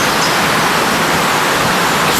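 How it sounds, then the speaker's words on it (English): The River Dane flows past a park, with a loud, steady rush of water close by and no other sounds. "You can hear the sound of the water"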